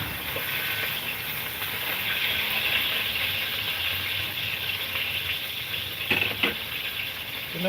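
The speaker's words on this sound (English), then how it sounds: "Getting a good sear on that." Meat searing on a hot surface, a steady hissing sizzle throughout with a few louder spatters near the end.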